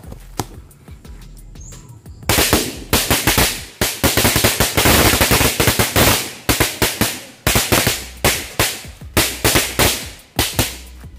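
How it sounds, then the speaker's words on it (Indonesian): Dense rapid volleys of New Year firecrackers, loud and close, with sharp cracks piling into continuous bursts, then a brief lull and further quick strings of bangs. "Kayak petasan apa gitu, banyak banget."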